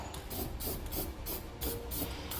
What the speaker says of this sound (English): we put some spray paint down around our smaller holes for our safety chain loops